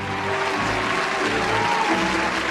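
A dense burst of clapping plays as a sound effect, steady and fairly loud from start to finish, with no voices over it.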